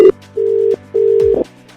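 Outgoing telephone ringback on a call being placed, two long even tones separated by a pause, loud and close with no talk.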